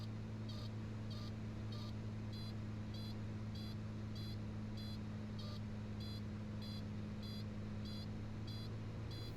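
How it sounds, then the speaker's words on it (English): An aircraft's landing gear warning alarm pulses a repeating electronic beep at a steady rhythm over loud, constant engine drone and hum, continuing throughout without pause. "the gear warning sound is going off"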